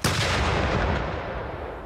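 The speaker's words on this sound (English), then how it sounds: "The 5th BC Field Artillery Regiment got the party off with a bang" A ceremonial artillery cannon salute fired by the 5th BC Field Artillery Regiment at Fort Rod Hill for a War of 1812 bicentennial event: one loud, close blast that rolls out into a long, fading rumble with no talking.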